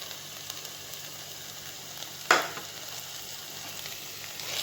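Chicken with turmeric and coriander powder sautéing in ghee for a chicken ghee roast, a faint, steady sizzle with one brief sharp stir or scrape partway through, no voices.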